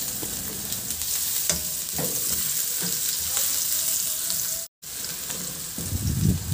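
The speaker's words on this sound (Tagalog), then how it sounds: "Paglabas ng aroma ng luya, isunod ko na rin ilagay yung bawang." Ginger and garlic sauté in hot oil, giving a loud, close, continuous sizzle with scattered stirring scrapes; the sound cuts out for a brief moment, then the frying resumes more strongly.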